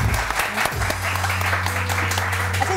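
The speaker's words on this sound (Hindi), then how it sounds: "इनके लिए बहुत सारी तालियां।" Studio audience on a morning TV show clapping, steady dense applause that fills the whole moment, with a voice faintly underneath.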